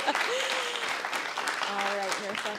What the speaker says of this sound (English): Round of applause for Marissa and Jim